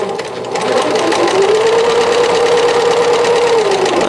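A sewing machine runs steadily as it stitches straight over an opened-out inside corner of a button-front sheath dress, a close, even motor hum that climbs to speed and holds for several seconds.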